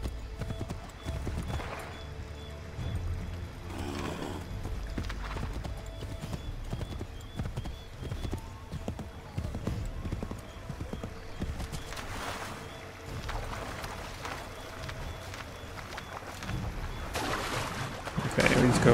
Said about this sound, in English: Get back on the horse, Connor.